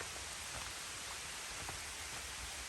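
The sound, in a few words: rain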